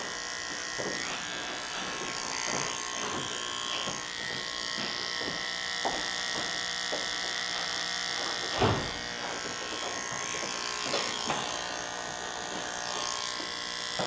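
A hair trimmer, worked backwards along the hairline, cuts curly hair for a pompadour. A soft, steady buzz runs throughout, broken by small clicks and snips.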